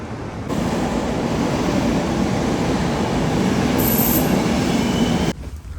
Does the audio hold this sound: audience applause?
no